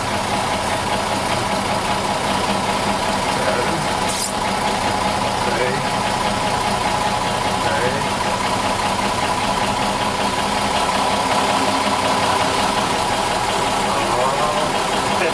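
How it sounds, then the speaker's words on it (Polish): The engine of a former US Army military truck idles, a steady loud mid-pitched rumble with a faint knocking rhythm that holds evenly throughout the whole stretch. "to jest poważna sprawa, taki samochód wojskowy, ciężarowy."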